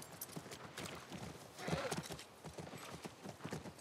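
A horse's hooves clip-clop in The Last of Us near a ranch in autumn, a steady rhythmic trot with a brief whinny in the middle, heard mid-distance without speech.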